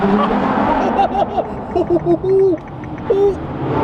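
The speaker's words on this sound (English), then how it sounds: "I legit don't know how to rev it, bro." A McLaren P1 engine is revved in neutral in a series of short, hesitant blips that rise and fall in pitch, separated by brief pauses, with voices faintly in the background.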